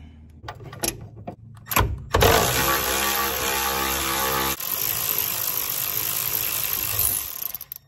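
A ratchet undoes a large bolt on the upper control arm of a Mazdaspeed MX5 suspension: a few separate clicks and clanks, then a long, loud run of rapid ratcheting clatter that continues close up until the end.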